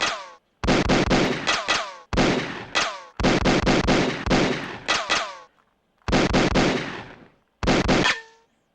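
Repeated gunshots from a carnival shooting video game, fired in sharp bursts and quick volleys separated by brief silences, loud and close with no talking over them.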